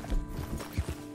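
Horse hooves clip-clopping in the Red Dead Redemption II video game, a few close, uneven thuds over a faint background.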